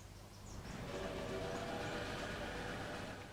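A train in Railway Empire rumbles along with a steady, dense rolling noise and a faint tonal hum, sustained and even for a few seconds without talk.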